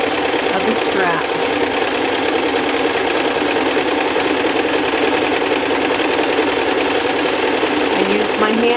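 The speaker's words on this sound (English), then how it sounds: "So I'm just going to zigzag the whole length of the strap." A sewing machine zigzag-stitches along the full length of a denim strap cut from upcycled jeans, a steady rapid mechanical chatter running throughout with a voice talking over it.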